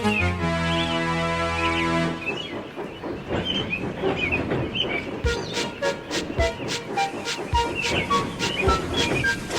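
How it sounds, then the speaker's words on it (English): A train draws near on a railway line, a steady mechanical drone at first giving way to a rhythmic clickety-clack of wheels over rail joints that grows louder and denser, with music-like tones and other sounds mixed in. "he heard a train approaching"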